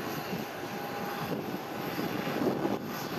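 Engine roar from a Boeing 737 airliner at an airport as it prepares for takeoff, a steady broad rumble and whine filling the whole clip with no talk over it.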